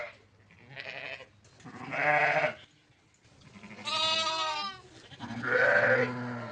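Several sheep and lambs bleat in turn, loud wavering calls separated by short pauses, close by with no talking.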